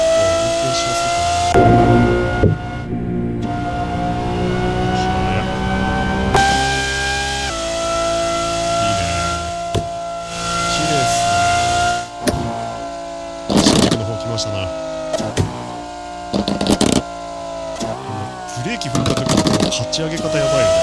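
A Lamborghini Countach LPI800-4 driven on the Shuto Expressway in the racing game Assetto Corsa, its engine droning steadily with rising and falling pitch and sharp shift blips, while someone talks over it.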